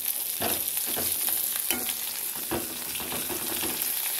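Drumstick leaves sizzling in hot oil for palak dal, a bright continuous crackle close up with soft stirring scrapes and pops scattered throughout.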